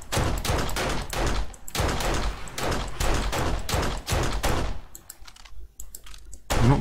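AK rifle fire in the survival game 7 Days to Die, rapid sharp bursts of shots in quick rhythmic runs, loud and close, thinning to a few scattered cracks near the end.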